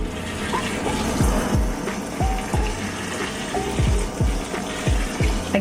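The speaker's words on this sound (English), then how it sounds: "So we'll just give her a thorough watering." Warm water is poured from a watering can into a potted plant just moved from a small pot, a steady close splashing and trickling with gurgles and a few bubbly drops.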